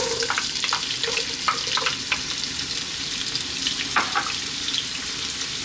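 Chopped onion fries in hot oil over above-medium heat, a dense, continuous sizzle with light stirring scrapes and clicks throughout, close and fairly loud with no talking.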